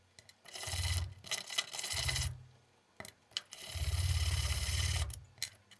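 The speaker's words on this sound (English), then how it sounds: "I roughened up one side of 4 magnets with 80 grit sandpaper." Rare earth magnets being roughened on one side with 80 grit sandpaper, heard as two long bursts of gritty rubbing strokes separated by brief pauses, close and fairly loud.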